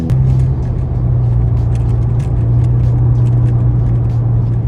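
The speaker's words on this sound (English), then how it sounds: "I actually saw a pretty cool a Mark IV Supra getting onto the highway" A Toyota Mark IV Supra merging onto the highway, with a loud, steady engine drone and low road rumble heard up close from a nearby car, and no talking.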